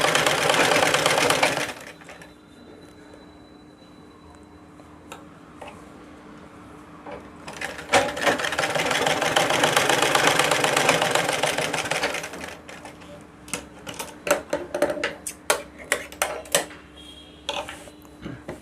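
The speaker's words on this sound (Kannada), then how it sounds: "ಇದನ್ನು ಬೇಕಾದರೆ ಇಲ್ಲಿಂದ ಈ ಥರ ಸ್ಟಿಚಿಂಗ್ ಹಾಕೊಂಬಿಡಿ" Sewing machine joins cloth strips for cross patti, running in two steady bursts of stitching with a short pause between. Near the end come sharp mechanical clicks and taps.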